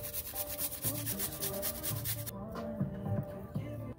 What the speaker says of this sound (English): grate a piece of ginger